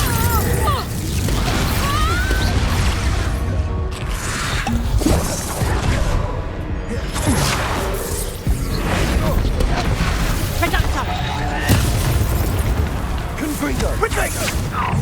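Spell blasts from Hogwarts Legacy, including Confringo and Bombarda, burst and crash in quick succession, loud and dense. A voice shouts spell names over the explosions.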